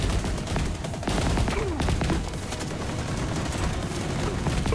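Video game gunfire rattles in dense, loud bursts like a continuous fusillade, with brief gaps and a voice talking faintly underneath.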